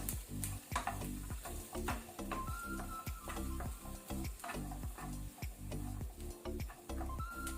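Onion and garlic fry on a medium flame for crab curry, a close crackling sizzle broken by repeated spatula scrapes and knocks against the pan in an uneven rhythm.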